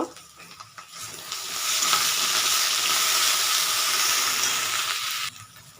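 A spice paste of green chilli, turmeric, cumin and Kashmiri chilli powder with salt and a little sugar frying in a pan, a steady loud sizzle after a few stirring scrapes, then cutting off abruptly near the end.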